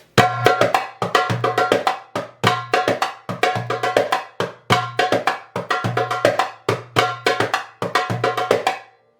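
Darbuka playing a malfouf rhythm with double ka strokes and pops, a quick repeating pattern of sharp drum hits in steady groups, close and loud with no voices.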